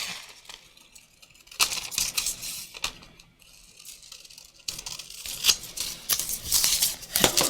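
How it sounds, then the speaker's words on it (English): Scissors loosely cutting out paper for an art journal page, close crisp snips and paper rustling in irregular bursts with quieter gaps between cuts. "So I'm just kind of loosely cutting this out."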